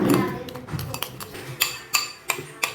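Homemade aloe vera gel being mixed with rice in a bowl, a soft wet stir followed by several sharp clinks of a spoon against the bowl, close and without talk.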